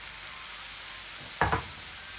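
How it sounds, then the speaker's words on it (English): Chopped tomatoes tipped into a hot pan, giving a brief burst of sizzle and stirring after a steady low background hiss, with no talking. "we're gonna add about half can of chopped tomatoes in here"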